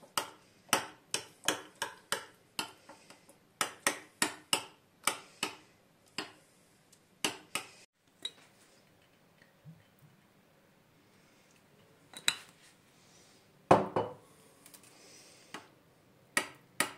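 Shredded white cabbage salad with green apple is mixed with mayonnaise in a bowl, making quick, sharp clinking taps of a utensil against the bowl in rhythmic bursts, then a quiet pause and a few more scattered clicks.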